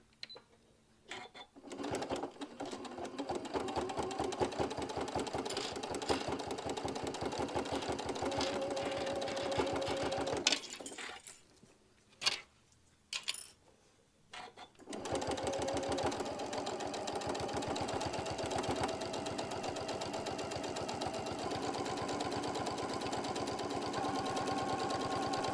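A sewing machine runs a 1/8 inch seam all the way around an applique piece, whirring steadily up close in long stretches with a short stop-and-start break midway.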